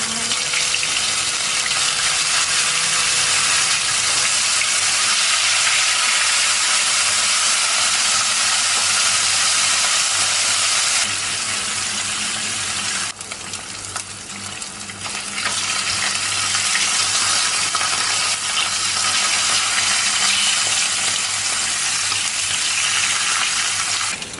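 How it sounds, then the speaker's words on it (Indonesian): Salted fish fries in a wok of hot oil, a loud, dense and continuous sizzle and hiss that dips briefly partway through, then resumes at full strength, with no voices. "Kalau sudah panas, kita akan goreng ikan asinnya terlebih dahulu ya."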